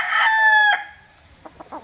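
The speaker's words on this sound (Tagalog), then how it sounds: "Napakaraming magagandang manok dito." A rooster in a barangay in Rosario, Batangas lets out a single loud, close crow that breaks off sharply, followed by a few faint clucks from nearby chickens.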